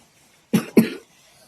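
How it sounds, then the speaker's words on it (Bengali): A young boy with a persistent cough lets out two quick, harsh coughs close by, the second slightly longer, with near silence before and after. "ওষুধ খাচ্ছি তবু আমাদের মা ছেলের কাশিটা কমছেই না"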